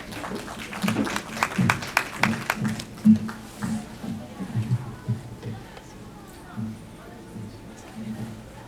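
An audience at a medical talk on diabetes claps briefly, scattered applause fading after a few seconds as a speaker begins talking.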